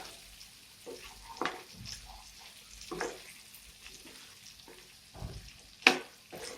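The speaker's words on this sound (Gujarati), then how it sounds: "તો આ રીતે હવે સારી રીતે આપણે ઉપર નીચે કરી અને તેલમાં આને થોડા ફ્રાય કરી દઈએ, જેથી એનો ક્રન્ચી ટેસ્ટ આવે એકદમ" Potatoes sizzle quietly in hot oil for a dry Gujarati potato bhaji, with intermittent scraping stirs and clinks of a spatula against the pan, soft and close with no talk.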